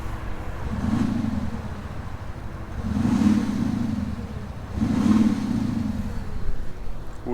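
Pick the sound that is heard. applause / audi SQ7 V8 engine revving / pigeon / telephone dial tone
audi SQ7 V8 engine revving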